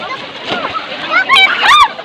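A person jumps into the lake at Yambo Lake in Nagcarlan, Laguna, landing with a loud splash and spray of water while excited voices talk and shout close by.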